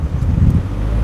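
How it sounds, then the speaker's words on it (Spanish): Ford car engine revving up from idle while accelerating hard with a cylinder misfire, a loud, close, rough low rumble that stays steady and heavy throughout, with slight wind buffeting. "Voy a acelerar un poco, desde cero voy a acelerar un poco rápido para sentir esa vibración"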